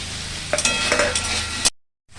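Turmeric and mustard paste stir-fry in a pan with a bright, close sizzle and quick scraping strokes of a spatula, ending abruptly in a short silence.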